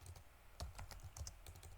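Rapid keystrokes on a computer keyboard while coding a website layout, a steady patter of close, light clicks with a few louder taps, no talking.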